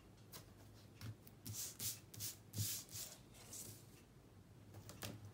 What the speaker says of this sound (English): on those sides, those half inch sides that we have left, we're going to tape this down